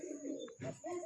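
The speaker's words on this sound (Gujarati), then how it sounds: "આપણે નાસ્તો કરીએ એ કબૂતરા પણ નાસ્તો કરે છે." Pigeons cooing while they eat a morning feed of flatbread and moong beans, with low rolling coos repeated in short bursts close up.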